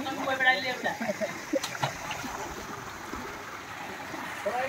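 Flowing water at Sanahandi waterfall in Nayagarh, a soft continuous rush and splashing under people talking nearby, with voices prominent at the start and the water carrying on beneath.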